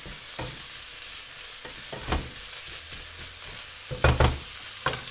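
Butter and olive oil sizzle in a frying pan under venison, a soft steady hiss broken by several louder scraping stirs and clatters, with no talking.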